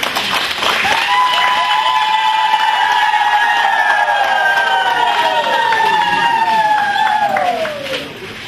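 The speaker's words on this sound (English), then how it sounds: "Can we give them a round of applause," An audience at an event in Mapungubwe breaks into applause and cheering, a sustained loud wash of clapping with high tonal calls or whistles gliding across it before fading at the end.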